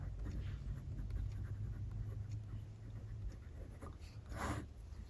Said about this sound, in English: if you write on the actual nib, you get a little bit of a thicker line